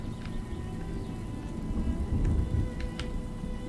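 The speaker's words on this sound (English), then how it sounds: "Love the sound of the thunder though" In the video game Farthest Frontier, steady rain pours under a low rolling rumble of thunder that swells midway, with scattered faint clicks over the continuous downpour.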